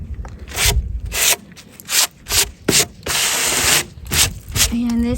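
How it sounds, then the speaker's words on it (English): A hammer prying up a wooden porch board on a tiny house, with repeated rough scraping and creaking bursts of wood rubbing and straining, close and fairly loud, separated by short pauses. "get my hammer and push it up and then just pull it out"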